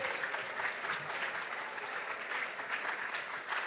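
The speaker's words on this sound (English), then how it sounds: "Please clap for them." An audience at a junior science and maths quiz claps steadily for the contestants, a fairly faint, even patter of many hands continuing throughout with no pause.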